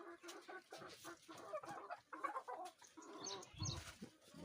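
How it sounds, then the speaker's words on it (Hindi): Egg-laying desi hens on a farm in India cluck and murmur in scattered, overlapping calls, fairly close but soft, with a few sharper squawks rising near the end. "ये अंडे देने वाली मुर्गी है"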